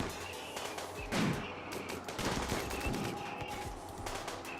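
Colonists firing on scythers in RimWorld Alpha 17, a rapid clatter of overlapping game gunshots in bursts, crisp and fairly close, with one heavier blast standing out.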